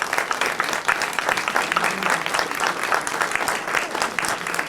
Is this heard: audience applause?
yes